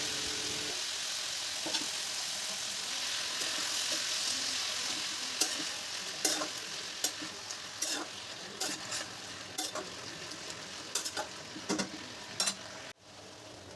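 Spinach frying in a pan with lightly fried potato and pumpkin, turmeric and salt: a steady close sizzle runs throughout, broken by repeated clinks and scrapes of stirring.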